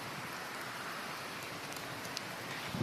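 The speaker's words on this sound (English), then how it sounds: "Fucking all raining and shit." Steady rain falling outside, a soft, even hiss of drops spattering on surfaces that continues unbroken, with one or two brief louder taps near the end and no talking.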